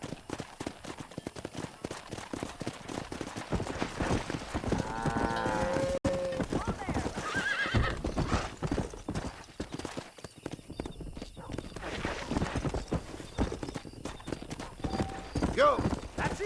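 Horse hooves clip-clop in a steady galloping rhythm through a Red Dead Redemption game scene, near and fairly loud under game music and character voices, with a brief whinny partway through.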